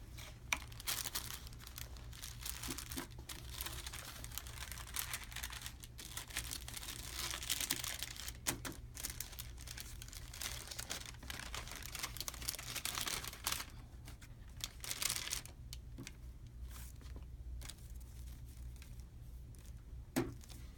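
Paper wrapper of a sterile glove kit crinkled and crumpled by hand, a steady close rustle with sharper crackles throughout, no talking.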